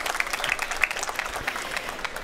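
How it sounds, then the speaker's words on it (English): An audience at the Krones Forum stage at drinktec applauds a speaker, giving steady, even clapping that fills the whole short stretch without a break. "please give her a round of applause, Anna-Lena Baumelt."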